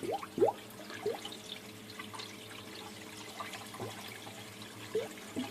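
Water fills an aquarium sump while air purges from the plumbing, giving faint trickling and dripping with a few soft gurgling bubble pops scattered over a low steady flow.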